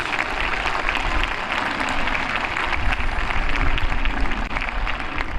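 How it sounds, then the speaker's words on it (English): Graduates at a high school commencement ceremony give themselves a round of applause, a dense, steady clapping that swells slightly and fills the hall. "please give yourselves a round of applause"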